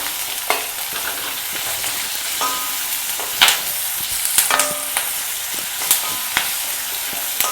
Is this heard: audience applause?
no